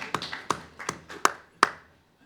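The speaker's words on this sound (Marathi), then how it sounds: "या ठिकाणी उपस्थित असलेल्यांसाठी मी टाळ्या वाजवतो तुमच्यासाठी" A single person claps for an audience in a hall, making about six separate, sharp claps at an uneven pace, fairly close, each followed by a short room echo.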